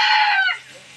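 A rooster gives a single loud, close, brief call that cuts off after about half a second, leaving a quiet room hum.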